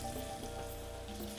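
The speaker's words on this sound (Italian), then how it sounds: "le facciamo un po' soffriggere in modo che si insaporiscono con l'olio e con l'aglio" Sliced potatoes fry in hot oil with garlic, giving a steady, dense sizzle. It is close and continuous, with no talk over it.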